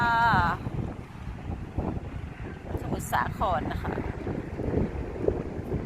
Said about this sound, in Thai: ลมแรงค่ะลมแรง